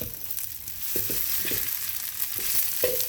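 Vegetable fried rice sizzles steadily in a pan while a utensil stirs and scrapes through it, with soft repeated scraping strokes over the constant frying hiss.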